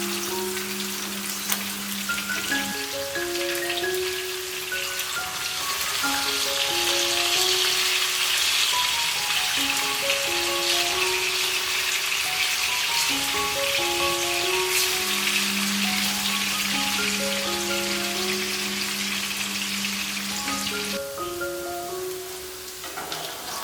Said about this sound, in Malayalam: ചിക്കൻ നന്നായി ഫ്രൈ ആയി വന്നിട്ടുണ്ട്.